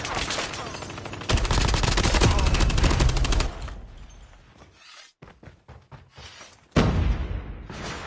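Rapid bursts of gunfire from the 117 rifle in a shooter video game, a loud dense volley for a couple of seconds, then quieter scattered sounds, gaps and another sharp burst near the end.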